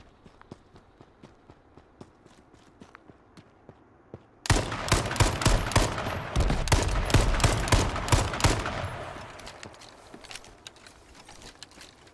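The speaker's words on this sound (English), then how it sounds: "I'm gonna throw a grenade right on him." H1Z1 battle royale game combat: a sudden loud burst of rapid gunfire erupts after scattered distant shots and footsteps, with a deep explosion-like rumble in the middle, then fades back to sparse shots; no speech.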